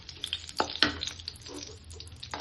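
Two bay leaves dropped into hot oil in a wok, giving a couple of sharp spits and crackles over a low, steady sizzle, fairly close and quiet, with no talking.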